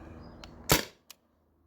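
One sharp crack comes as a modified T4E TR50 paintball marker fires a homemade slug. A faint click comes just before it and a small knock follows soon after, in an otherwise quiet spot.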